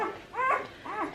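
Newborn Great Dane puppies, about a day old, give two soft whimpering cries while their mother cleans them, close but faint.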